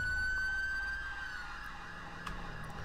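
A UK police car siren wails in the GTA 5 video game, faint and distant, its steady tone fading after a second over a low rumble of traffic and engine.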